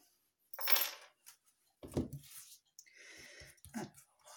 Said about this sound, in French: Alors, j'enlève mes breloques.